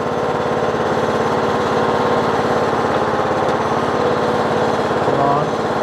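Kohler Courage engine on a Troy-Bilt Bronco lawn tractor running at a low idle, a loud, steady, close chugging drone with an even rhythm that holds for the whole stretch.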